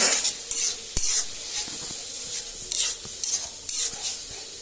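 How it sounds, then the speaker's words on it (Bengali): Ginger garlic paste sizzles and fries in a pan for mutton biryani, with repeated stirring scrapes and occasional clinks of a utensil against the pan, close and fairly quiet. "এখানে আদা রসুন পেস্ট দিয়ে দিতেছি।"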